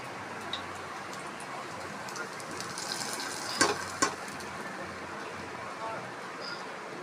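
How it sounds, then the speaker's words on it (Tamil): Hot tempering poured into a simple green gram curry set off the stove, giving a steady, close hiss of sizzling oil that fades slowly, with a couple of sharp clicks partway through. "இப்போ அந்த இறக்கி வச்ச குழம்புல இப்போ தாளித்து கொட்டிடும்"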